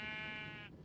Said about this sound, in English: let me go ahead and gather up the rest of the sheep